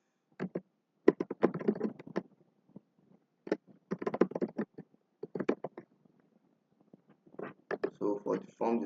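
Someone types on a computer keyboard in quick clustered bursts of clicks, close and fairly quiet, pausing between runs of keystrokes.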